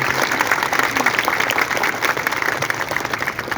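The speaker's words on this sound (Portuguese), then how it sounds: "E merece mesmo uma salva de palmas" Congregation in a church claps steadily, a dense, even round of applause filling the space with a faint murmur of voices under it.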